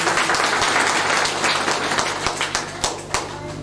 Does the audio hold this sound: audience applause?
yes